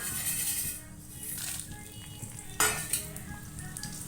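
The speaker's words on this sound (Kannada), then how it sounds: "ಸ್ವಲ್ಪ ಸಾಸಿವೆ ಸಿಡಿದಾದ್ಮೇಲೆ ಏನು ಒಣಮೆಣಸಿನ್ಕಾಯಿ ತೊಗೊಂಡಿದ್ನಲ್ಲ ನಾನು ಇದಕ್ಕೆ ಹಾಕ್ತೀನಿ" Mustard seeds and dry red chillies splutter in a hot pan, a steady crackling sizzle with a few sharper pops and faint utensil clinks, close and alone with no talk.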